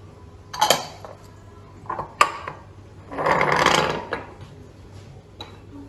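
A spoon scrapes and clinks against a bowl while melted butter is mixed into gluten-free almond cake batter, giving sharp taps and a longer grinding stir, with no talk.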